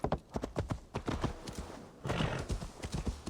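Horse hooves clip-clop in the video game Assassin's Creed Valhalla, a crisp, rhythmic trot of close, distinct hoofbeats that briefly pauses and then resumes at a steady pace.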